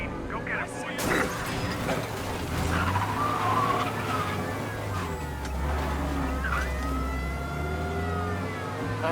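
Police siren wailing in the Mafia Definitive Edition video game, rising and falling continuously alongside car engine drone and game sounds, with voices talking over it.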